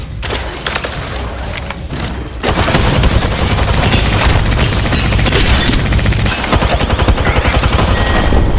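Rapid automatic gunfire in Apex Legends rattles loud and close, first in a short stretch and then as a dense, continuous barrage with booming impacts.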